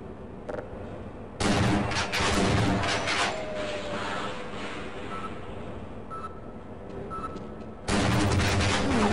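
A bomb blast in Half-Life rips through a stretch of near-continuous loud gunfire and booming combat, with a sharp burst at the start and another near the end.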